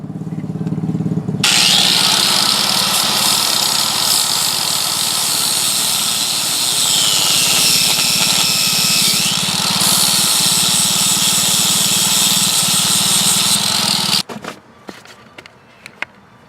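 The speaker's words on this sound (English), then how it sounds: "we're going to grind it off with a grinder" Angle grinder cutting off a crimped nut on a 1965 Ford Econoline during a lowering job, a loud, steady high-pitched whine lasting about thirteen seconds with a slight pitch dip midway, then cutting out abruptly into a few faint clanks.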